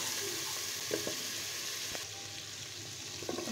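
Garlic and onion pastes with whole cumin, cinnamon, cloves and cardamom fry in oil for a lentil fish curry, giving a steady soft sizzle with a few faint stirring clicks close by.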